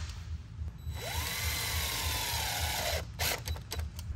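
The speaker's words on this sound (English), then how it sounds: "these are just a stainless self-tapping screw. I'm gonna gently drive it in." A drill gently drives a stainless self-tapping screw into a pontoon bimini top frame, giving a steady whirring buzz that rises in pitch and holds for about two seconds, followed by a few short clicking bursts as it stops, with no talk.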